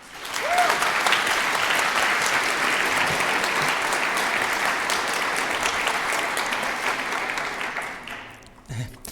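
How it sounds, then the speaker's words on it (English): A conference audience at the 38C3 hacker congress applauds to welcome a speaker: sustained, dense clapping that stays loud for about eight seconds, then thins and fades out at the end. "Please give a warm applause, a warm welcome"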